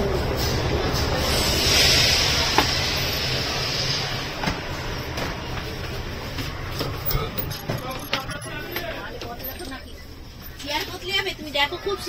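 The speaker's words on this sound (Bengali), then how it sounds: "হাওড়ার 9 নম্বর প্ল্যাটফর্মে ট্রেন দিয়ে দিয়েছে" Howrah–New Delhi Poorva Express standing at platform 9 of Howrah station, a steady rumbling station hum with clanks and hisses under nearby voices.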